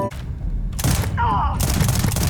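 Gunfire in the Starfield video game comes as dense, booming bursts of rapid shots that sound loud and close, broken by brief gaps, with a voice briefly audible between volleys.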